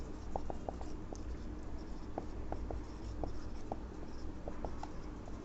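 Pen writing on paper while a maths problem is worked out: quiet scratchy strokes in short irregular bursts over steady background hiss, with a brief spoken word.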